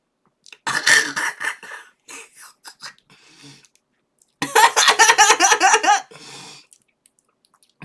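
Several bursts of harsh coughing close to the mic, a short fit, a pause with quieter breaths, then a longer rapid run of coughs.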